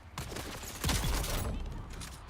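A gunshot headshot in a Dune-style shooter game: a short, loud burst of gunfire and impact clatter amid busy combat noise, lasting about two seconds.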